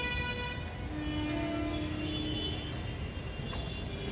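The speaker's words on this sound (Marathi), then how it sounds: "आवाज येतोय ट्रेनचा मित्र" MEMU commuter train approaching a station on the Virar to Dombivli line near Vaitarna, a steady low rumble with faint horn-like tones building under platform ambience, no talk.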